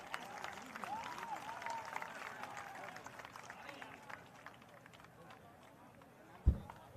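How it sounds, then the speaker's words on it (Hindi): Scattered clapping from a crowd, fairly faint, with murmuring voices underneath; it thins out midway and a single thump lands near the end. "तालियों की गड़गड़ाहट से इनका इस्तकबाल"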